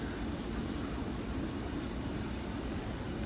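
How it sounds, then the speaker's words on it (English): A shunter locomotive pulls away from a station platform, giving a steady low rumble of engine and rolling stock that holds at an even level throughout, with no voices. "the shunter's going now"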